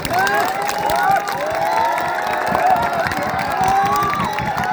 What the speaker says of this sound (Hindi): अब जिसको ताली बजाना है वो बजा लो।